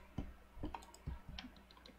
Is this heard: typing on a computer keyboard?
yes